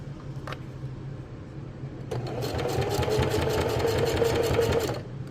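A sewing machine starts up after a faint click and runs in a steady, rapid whir of stitching for about three seconds, then stops.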